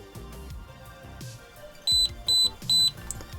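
Three short, high electronic beeps in a row from an AceTech Raider airsoft tracer unit, evenly spaced, standing out over low background noise and faint handling sounds.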